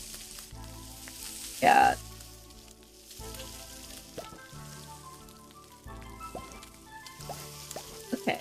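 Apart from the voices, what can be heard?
sauteing food sizzling in cooking video game Beastro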